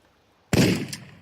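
Single shotgun blast with wide shot ammo in Tomb Raider 4, a sharp loud boom after a brief silence, decaying with a short rumbling tail.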